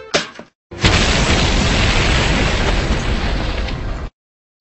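A cartoon explosion of homemade pie bombs, one loud, sustained roaring blast that fills the sound for several seconds after a brief sound, then cuts off abruptly to silence.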